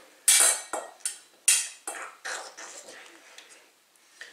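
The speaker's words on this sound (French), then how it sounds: "vous mélangez, pas avec la main, avec une cuillère" A spoon scrapes and clinks against a dish while food is stirred together, giving a run of sharp, close scraping strokes with a few short pauses. The strokes soften and thin out toward the end.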